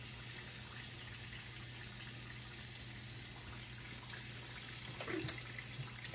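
Water running steadily from a kitchen sink tap, a soft continuous hiss at low level with one small clink near the end and no talking.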